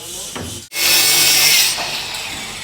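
A power machine in a workshop trims off excess material with a steady, loud grinding-cutting whine that briefly cuts out and then resumes, with no voices.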